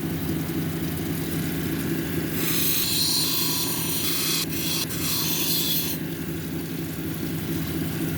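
A petrified wood cabochon is ground on a 220 grit wheel, a brighter raspy grinding rising over the constant motor hum for a few seconds before easing back to the running machine.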